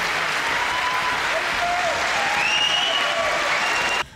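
Opposition members in parliament applaud in a sustained, dense burst of clapping that holds steady before cutting off abruptly, with faint overlapping voices beneath.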